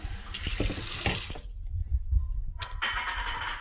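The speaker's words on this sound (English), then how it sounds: "I'm just going to get a little more water here." Water runs from a tap, adding more water for an oatstraw herbal infusion; a steady close splashing rush is interrupted by a short pause, then resumes.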